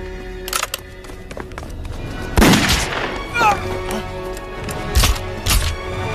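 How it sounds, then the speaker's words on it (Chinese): Gunshots ring out in a Chinese war drama set during the anti-Japanese war, several sharp bangs spaced a second or so apart over a tense background, with a shouted order just before. "开枪！"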